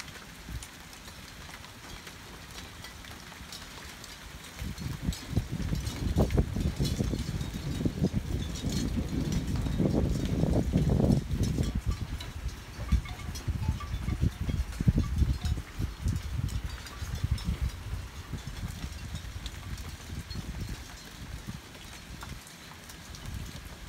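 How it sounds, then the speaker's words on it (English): Wind and rain during a thunderstorm in Kalamazoo County, Michigan, a constant hiss of rain and gusts that swell to a louder, rougher rush midway before easing off again. "Wind keeps picking up."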